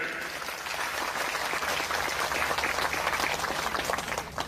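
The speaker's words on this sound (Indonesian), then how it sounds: "Tepuk tangan." Audience applause at a Ramadan religious gathering led by a preacher, a dense sustained wash of many hands clapping, fairly loud and steady throughout, tapering slightly at the end.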